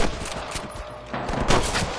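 Gunfire from a shootout in the Western game Red Dead Redemption, a dense, continuous crackle of distant and nearer shots, louder in the second half, with no clear talking.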